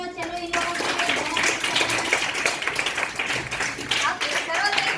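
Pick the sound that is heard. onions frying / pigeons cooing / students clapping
students clapping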